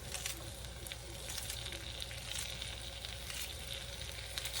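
Green onions and vegetables sizzle steadily in a hot skillet, a continuous close frying hiss with faint crackles and no talking.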